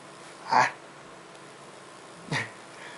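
Two short, forceful breaths from a cat, close by, separated by a pause of quiet.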